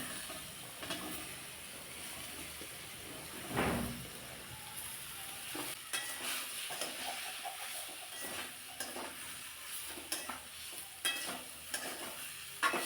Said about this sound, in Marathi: या फोडणीमध्ये तेलामध्ये चांगल्या फोडी परतून घ्यायच्या